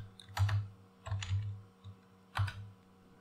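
Typing on a computer keyboard to name a zip file, heard as three short bursts of close key clicks separated by brief pauses, with no talking.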